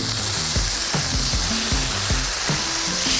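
Lowcountry hash frying in a pan, a loud continuous close sizzle with repeated soft scraping knocks as the hash is rolled and turned, no talking.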